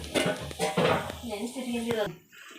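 About a kilogram of rice goes into a pot for chicken biryani, with short metallic clinks and scrapes of a utensil against the pot while someone talks over it.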